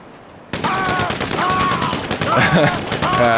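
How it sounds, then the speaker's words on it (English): Machine gun fire sounds during combat in the video game GTA V. The bursts start abruptly and stay loud and dense for about three seconds, with weapon tones and game effects layered over them. "he will actually start shooting me right away"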